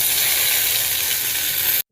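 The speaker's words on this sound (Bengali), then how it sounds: "কড়াইতে তেল দিয়ে দিয়েছি, একটু সর্ষে ফোড়ন দিয়ে দিলাম" White mustard seeds hit hot oil in a wok with a loud, dense, hissing sizzle that holds steady and then cuts off abruptly.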